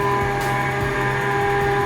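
A noisy radon fan runs with a steady, loud mechanical drone and hum, unbroken throughout with a faint rhythmic pulsing beneath it.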